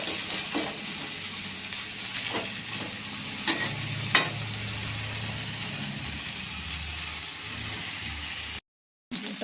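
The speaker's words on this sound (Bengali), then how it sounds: "একটু ভাজা হয়ে যাক ফুলকপিটা" Cauliflower fries in a pan with a steady, soft sizzle. A few sharp clicks of stirring cut through at intervals, and there is a brief drop to silence near the end.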